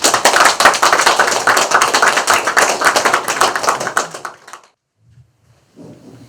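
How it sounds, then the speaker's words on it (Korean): An audience at an author's talk gives a burst of dense, steady hand clapping that fades out after about four seconds, then near silence with faint rustling. "박수로 맞이해주세요."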